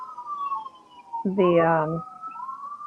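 An emergency vehicle siren wailing outside in a long rising and falling tone, while a person speaks over it indoors.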